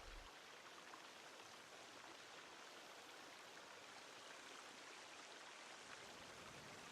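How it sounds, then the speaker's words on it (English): Steady, continuous rushing of a video game waterfall, with an even hiss throughout and no voices. "Sounds like running water."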